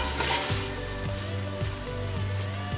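Ground turkey sizzles and fries in a pot while browning for chili, with a steady crackle and a few stirring scrapes, close and without talk.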